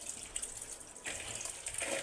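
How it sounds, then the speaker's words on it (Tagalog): Tap water runs onto sambong leaves as they are washed one by one in a sink, giving a soft, fairly faint splashing hiss that swells noticeably about halfway through and continues without any speech. "Hugasan natin ng mabuti. Isa-isa yung dahon."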